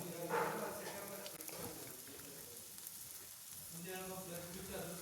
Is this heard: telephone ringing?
no